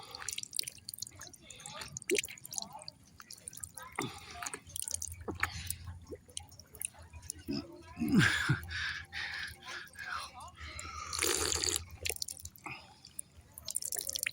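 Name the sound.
water running and dripping from a pipe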